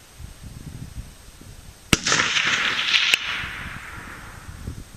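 A single loud crack from an Eddystone US Model 1917 rifle firing Hornady 150 grain full metal jacket ammunition, followed by a broad rushing echo that fades over a couple of seconds against outdoor wind.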